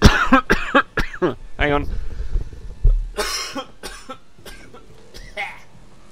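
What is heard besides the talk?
coughing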